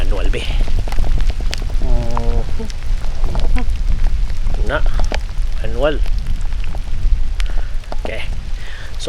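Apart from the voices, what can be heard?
rain falling during a hike at Mount Dandenong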